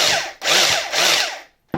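A 1981 Celma PRWg hammer drill runs with its chuck spinning, giving two close, loud whirring bursts that wind down to silence, then a sharp restart at the very end.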